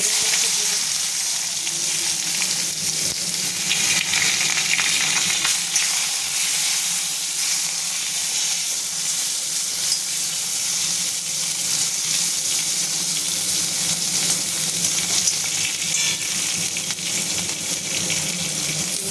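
Black cumin (nigella) seeds temper in hot oil, crackling and sizzling loudly and continuously at close range.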